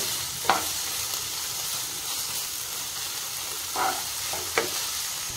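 Onion and tomato frying with salt in a pan for a mushroom masala curry, a steady low sizzle with a few brief stirring scrapes near the start and toward the end.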